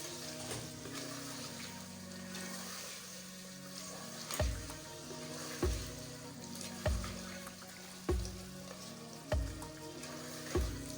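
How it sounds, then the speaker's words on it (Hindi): A metal spoon stirs masala cooking in a pan, giving a regular series of soft scraping knocks roughly every second over a faint, continuous sizzle, with no voices. "अब चम्मच हिलाएंगे उसमें अच्छी तरह"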